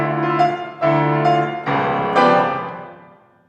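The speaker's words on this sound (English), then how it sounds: "So the entire orchestra, tutti, starts." Full orchestra in a turbulent tutti opening of Stravinsky's Capriccio for piano and orchestra, with loud sustained chords in quick bursts and sudden section changes, then a decaying final chord.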